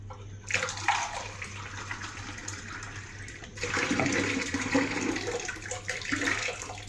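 Tap water running steadily into a cup in a home kitchen while making qatayef batter, a close, moderately loud rushing flow that starts after a brief pause and grows fuller partway through.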